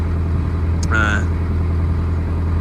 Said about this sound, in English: First thing is to start the boat.